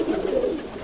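A Ferozpuri pigeon gives a single short, soft coo close by.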